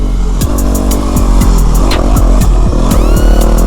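A Yamaha WR250R dual sport motorcycle climbs a dirt hill, its engine loud and close, revving up and down in quick repeated bursts with clattering from the rough ground.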